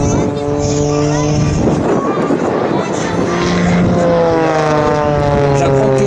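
Aerobatic airplane of the French Air Force aerobatic team roaring through a display at an air meeting in Albert, a loud sustained engine drone with shifting pitch, heard under a commentator's voice.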